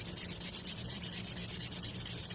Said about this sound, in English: Now I'm going to go to 220. Just lightly sand over the top of those.